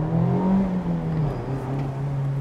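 2024 Mazda MX5 engine pulling under acceleration with the roof down in light rain: a steady, rising hum up close, briefly dipping at a shift before climbing again.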